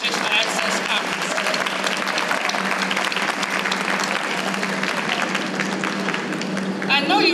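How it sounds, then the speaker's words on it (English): A conference audience at the 20th annual Mary E. Benjamin Educational Access Conference gives a sustained round of applause, dense clapping filling the room steadily for several seconds, with voices heard faintly through it. "Please join me in a Golden Lion round of applause"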